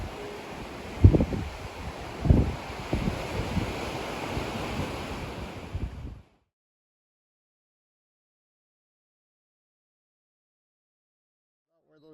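Ocean surf breaks on the beach at Ericeira, Portugal, with wind buffeting the microphone and a couple of louder wave surges over about six seconds before the sound cuts to silence.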